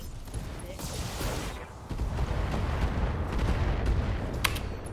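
Mech weapons firing during a turn-based battle in the video game Battletech: dense, continuous rumbling barrages and blasts that swell after a brief dip and hold steady, ending with a sharp crack.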